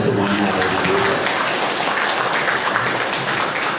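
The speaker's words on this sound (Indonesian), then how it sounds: "dan tepuk tangan untuk kita semuanya." Steady applause from an audience of Islamic boarding school teachers at a Pesantren Darunnajah 3 Al Manshur gathering in Serang, Banten, a dense, even wash of clapping lasting throughout with faint voices mixed in.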